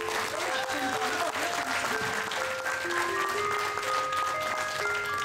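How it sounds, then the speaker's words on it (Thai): Steady audience applause fills the space, a dense wash of clapping continuing without a break, with faint voices and some tonal sounds mixed beneath. "และคุณสมพงศ์ขอเสียงดังๆค่ะ"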